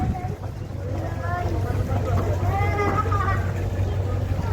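A fishing trawler boat on the Meghna river, its steady low engine drone running throughout, with wind and water noise and people talking in the background.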